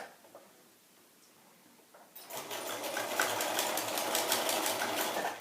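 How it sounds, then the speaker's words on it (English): A sewing machine stitches down the pleats of a fabric face mask, starting after a quiet pause and then running steadily with a fast, loud, close mechanical chatter and no speech. "I'm just stitching these pleats down to match the other side."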